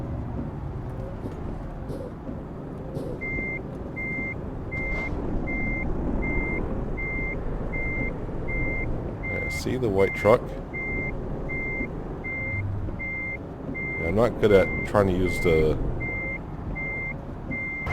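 A truck backing up in American Truck Simulator gives out a regular string of electronic reversing beeps over a low engine rumble, while someone talks through part of it.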